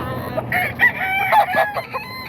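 A gamecock of an SBR bloodline crows once, loud and close, a drawn-out cock-a-doodle-doo lasting about two seconds over faint background noise.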